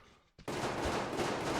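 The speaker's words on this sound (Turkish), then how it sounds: "Silah sesleri var." Loud, continuous gunfire from the video game Metro Exodus: Sam's Story, a dense burst of rapid shots that starts abruptly after a brief quiet moment and keeps going without pause.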